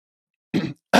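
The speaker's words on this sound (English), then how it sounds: "Let me clear my throat." A single short, close throat clearing bursts out of silence, followed by the start of another rough vocal sound.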